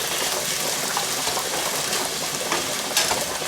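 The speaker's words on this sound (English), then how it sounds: "So just a quick saute with the tomatoes." Tomatoes sauteing in a pan, a steady close sizzle and crackle with faint stirring, continuous and fairly loud with no voice over it.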